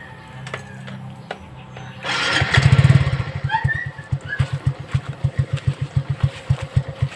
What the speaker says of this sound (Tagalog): So pandarin ulit natin yung motor.